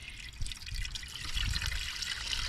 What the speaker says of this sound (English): We're just gonna pour this whole thing in.